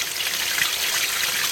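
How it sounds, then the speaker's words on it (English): Water rushes steadily through the bypass hoses of a car radiator's cooling system during a flush, a continuous hissing, splashing flow that is close and fairly loud, with no voices. "That's flushing all the little bypass hoses and everything out."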